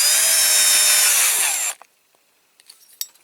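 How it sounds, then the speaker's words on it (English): A small drill bit whines steadily as it drills into a post on a Dinky Toys MG Midget (No. 108) model, loud and close, then stops abruptly, followed by faint clicks and taps of handling. "Now this is the drill bit that I'm going to use for the posts."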